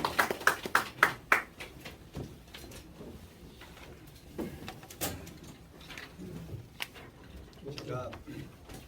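Audience applause welcoming a pastor to the podium at a church leadership election meeting, a short burst of sharp claps at the start that quickly fades into a quiet room with a voice speaking.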